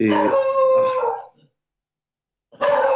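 A dog gives a short, loud, tonal howl that fades after about a second, followed by silence before another howl starts abruptly at the end.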